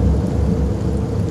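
Heavy rain and a deep rumble of thunder in the horror video game Fears to Fathom: Carson House, a loud and dense steady roar with no talk.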